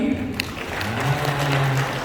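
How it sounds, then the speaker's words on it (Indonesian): Audience in a hotel ballroom at a Hajj rehearsal session applauding in a steady, moderately loud patter of many hands, with a low voice murmuring underneath. "Bapak Ibu boleh tepuk tangan sekali lagi"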